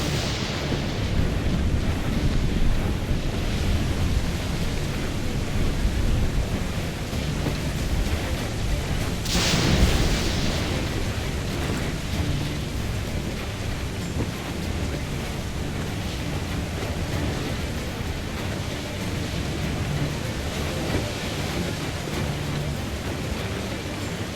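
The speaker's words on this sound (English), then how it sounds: "Storm there, Captain! Look back!" Storm at sea in Assassin's Creed Black Flag: a constant roar of wind and crashing waves, with a louder surge of spray partway through, dense and sustained for the whole stretch.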